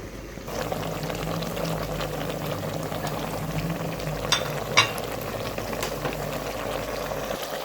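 Beef karahi sizzles and bubbles steadily in a pot as ground spices go in, making a continuous frying hiss with a couple of brief stirring clatters; nobody speaks.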